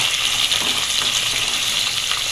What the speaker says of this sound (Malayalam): ഇതിലേക്ക് 2 മീഡിയം സൈസ് സവോളയാണ് ഇട്ട് കൊടുത്തിരിക്കുന്നത്. സവോള ഒന്ന് ജസ്റ്റ് കളർ മാറി വരണം കേട്ടോ.